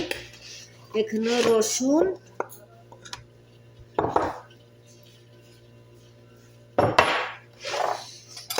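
Metal utensils clatter against a pot while meat is cooked with onion, coming in several loud, close bursts separated by quiet gaps under a steady low hum, with a brief stretch of speech near the start.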